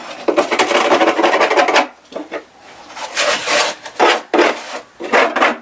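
An old blunt knife scraping along wood in long rasping strokes, loud and close, with brief pauses between bursts of harsh scraping.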